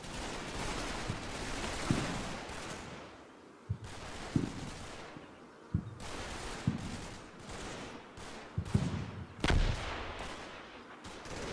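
Machine gun and rifle fire in the Combat Mission: Battle for Normandy war game, scattered sharp bursts and single cracks at a distance, recurring irregularly with no talk.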